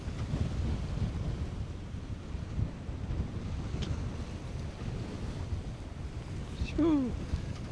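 A sailboat running under sail with its engine switched off on the Bay of Biscay, heard as steady wind rush and water washing along the hull, loud and continuous, with a brief brighter splash near the end.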